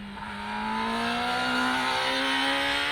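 A Kawasaki ZX-10R sportbike engine revs up smoothly with a rising pitch, close and loud, its note climbing steadily for a few seconds without talk.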